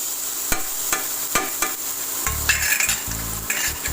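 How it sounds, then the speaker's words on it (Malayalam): Carrots fry in a pan for chicken biryani, giving a close sizzle broken by sharp clinks and scrapes of a spoon stirring against the metal. "ജസ്റ്റ് ഒന്നിങ്ങനെ മൂത്ത് വരുന്ന സമയത്ത് നമുക്ക് എന്ത് ചെയ്യാം ക്യാരറ്റ് ഇട്ട് കൊടുക്കാം"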